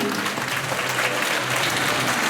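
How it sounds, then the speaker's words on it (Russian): Dense, sustained applause from a hall audience at a centenary celebration of the Borisov city library, steady and loud throughout the short stretch, with no voices standing out. "Ваши аплодисменты"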